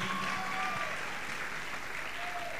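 An audience at a church service claps in a dense, continuous wash that is moderately loud, with a faint tonal hum and indistinct crowd noise beneath it.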